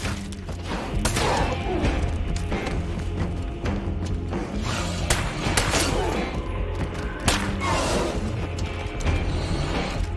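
Gunfire rings out in State of Decay 2 while fighting a feral zombie: a run of sharp, loud shots and thuds comes in irregular bursts throughout, with faint voices in the background.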